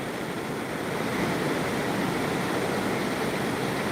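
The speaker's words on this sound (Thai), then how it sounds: "อยากให้เพื่อน ๆ ได้ชมบรรยากาศน้ำตกสวยมากค่ะ" A waterfall on a forest hike in Switzerland roars as a dense, steady rush of falling water, loud and close, with no talk over it.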